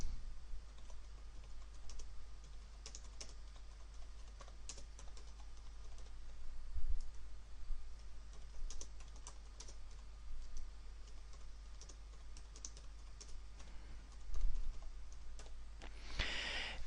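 Typing on a computer keyboard while entering text in Microsoft Word, a steady patter of light key clicks with occasional louder taps and no voices, over a low constant hum.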